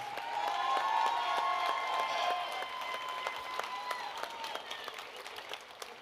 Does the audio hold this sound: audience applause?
yes